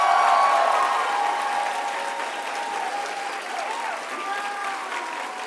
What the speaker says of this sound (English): Another big round of applause for Arnold.